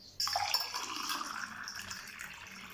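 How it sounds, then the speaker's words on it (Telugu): Water poured into a glass holding soaked basil seeds, a steady close splashing pour that starts abruptly and runs on with no talk over it. "ఇందులో కూడా ఇప్పుడు నీళ్లు పోసి చూపిస్తున్నాను."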